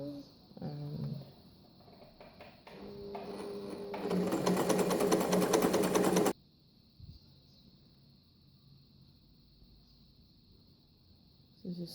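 An Empisal 270D sewing machine stitches a zigzag with a twin needle, moving from slow stops and starts to a fast, loud, steady whirring run that ends abruptly, followed by quiet handling sounds.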